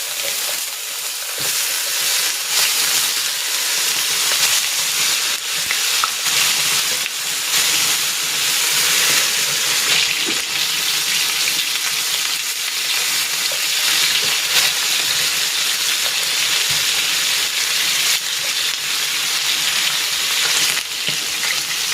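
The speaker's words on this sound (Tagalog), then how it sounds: "Next, isisir ko naman itong chicken." Chicken pieces, taken out of their marinade, sear in a hot pan for a Filipino chicken estofado. A loud, steady sizzle and hiss of frying fat runs throughout without a break.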